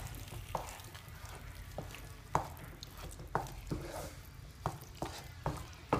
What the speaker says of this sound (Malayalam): ഇനി നമുക്കിതൊന്ന് മിക്സ് ചെയ്ത് കൊടുക്കാം.